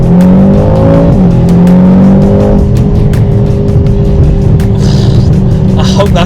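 Heard from inside the cabin, a 2025 Aston Martin DBX revs hard through a 0 to 60 run, the engine note climbing and shifting through gears, loud and close, with a voice talking over it.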